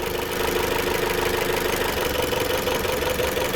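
A 2015 Chrysler 200 engine runs steadily up close with a cylinder misfire, giving a rough, continuous mechanical hum with an uneven, knocking texture throughout.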